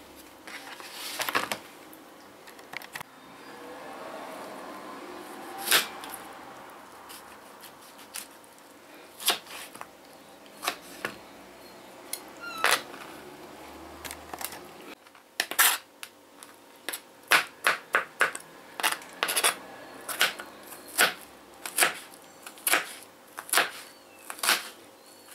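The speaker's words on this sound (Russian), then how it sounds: "Огурец я тоже буду нарезать мелкими кубиками." A knife dices cucumber into small cubes on a cutting board for a canned salmon and bean salad, with sporadic soft chops at first that turn into quicker, sharper rhythmic taps toward the end.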